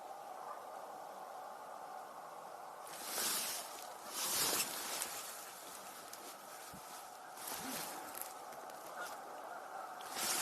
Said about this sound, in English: we're hearing Canada geese, and I think we're also hearing some tundra swans